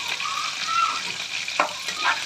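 Vegetables deep frying in hot oil for a royala (prawn) curry, a steady close sizzle with occasional stirring scrapes and no voices.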